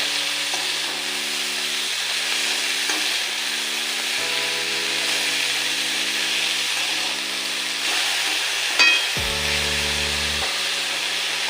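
Banana flower and small fish are stirred while frying in a pan, with a constant close sizzle and repeated scraping strokes of a spatula against the pan, a steady hum in the background.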